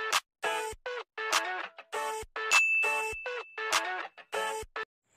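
A notification bell sound effect rings as a string of bright, clear dings in an uneven rhythm, some quick pairs, each decaying quickly into silence.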